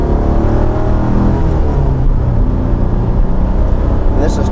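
A Porsche 914 driving along, a loud steady engine drone and road rumble filling the clip from inside the car, with a voice talking over it.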